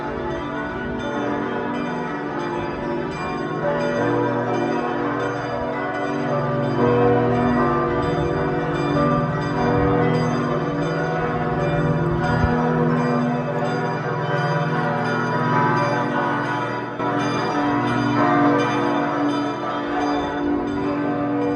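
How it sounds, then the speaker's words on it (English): Church bells peal continuously across Nuremberg's old town, a dense wash of overlapping ringing tones that stays steady and fairly loud throughout. "Church bells echo across Nuremberg as we wander the old town"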